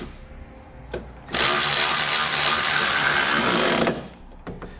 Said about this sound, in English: I'm going to come back with a 17mm socket and snug those up.